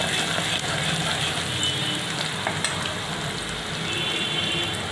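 Chopped onion sizzling in hot oil for chicken kosha, a dense, even, close frying hiss that holds steady throughout, with no talking.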